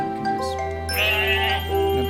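Sheep bleat in a cute farming game with horror undertones, a couple of drawn-out wavering bleats over soft chiming game music and a low steady drone.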